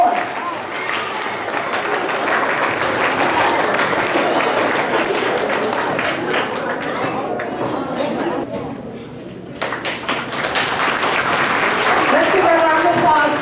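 An audience at a middle school awards ceremony breaks into sustained applause, a dense wash of clapping that dips briefly before swelling again, with voices murmuring through the crowd.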